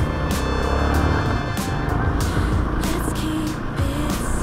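A motorcycle engine revs and accelerates through a hairpin bend on a mountain road, loud and close, with wind noise and gear changes breaking the steady roar.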